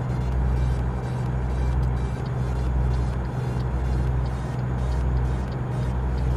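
A Peterbilt truck in a trucking video game gives a steady, loud engine drone with a deep low rumble that holds throughout, and no other sounds stand out.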